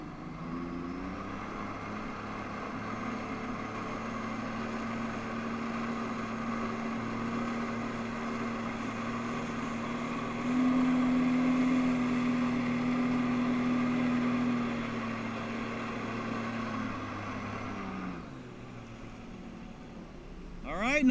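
Jet ski engine powering a FlyBoard on open water, a steady droning roar that swells a little midway, then eases off near the end.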